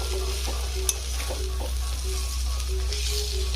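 Bengali korai greens fry in a pan with a steady, close sizzle and light stirring scrapes throughout.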